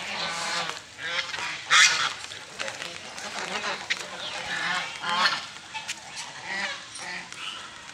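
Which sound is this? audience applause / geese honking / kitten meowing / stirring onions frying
geese honking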